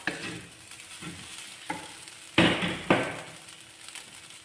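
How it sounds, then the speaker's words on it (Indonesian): Cooked sausage is stirred through Taiwanese-style fried rice sizzling in a pan, with repeated scraping strokes of the spatula over a steady frying hiss, close and clear. "Kemudian kita aduk sampai tercampur merata"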